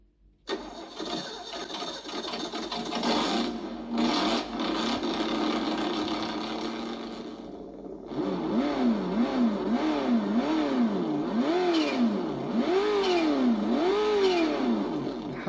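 The default engine sound of a Sense Innovations ESS ONE RC sound system starts up, then rises and falls in repeated revs, a synthetic buzzing motor tone that is close and steady with no talk.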